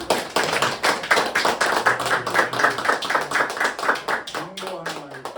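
Audience at a lecture on Palestinian peace activism gives a round of applause, dense rapid hand claps from many people in a hall, steady then tapering, with a voice briefly speaking near the end.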